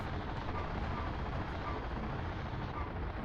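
Steady helicopter rotor and engine drone from the mech combat video game Steel Battalion, a dense continuous roar at constant loudness with no talk, like a chopper hovering close by.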